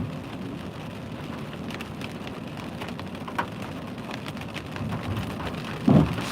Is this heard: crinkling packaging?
no